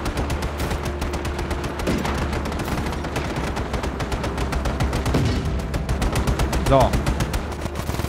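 Rapid automatic gunfire rattles through a chaotic firefight in Just Cause 3, with dense bursts and scattered shots layered under someone talking.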